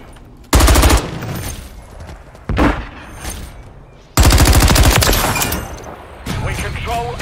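Loud automatic gunfire in the Call of Duty Modern Warfare 3 multiplayer game comes in several heavy, rapid bursts, close and dominant, separated by brief lulls of echoing battle noise.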